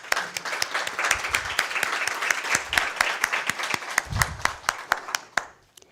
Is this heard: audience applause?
yes